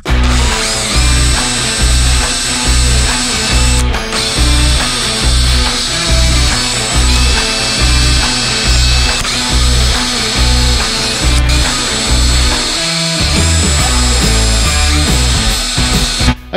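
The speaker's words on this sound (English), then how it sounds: "let's drill some holes." A power drill whines loudly and steadily, its motor pitch briefly dipping as it bites in, running continuously with short pauses between holes drilled through a template for a Harley-Davidson Street Glide Special tour pack.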